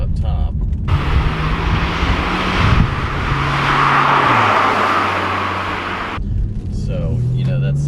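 Porsche 991.2 Carrera with its turbocharged flat-six engine accelerating from inside the car, a rising engine drone with audible turbo spool, interrupted by a gear change and heard under road rumble.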